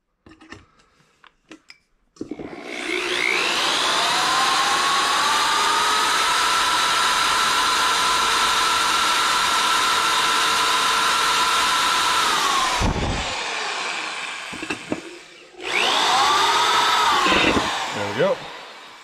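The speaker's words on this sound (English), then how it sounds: "Switch up to the pilot hole with the drill." A power drill boring a pilot hole in a salad bowl whirs loudly for about ten seconds, winds down, then spins up again for a shorter burst.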